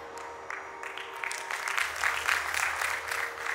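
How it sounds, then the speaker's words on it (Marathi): An indoor audience claps through a long speech, the applause fading in softly and building into steady, dense clapping that continues to the end. "आता 3:30 म्हणून सुद्धा हे टाळ्या वाजवत आहेत"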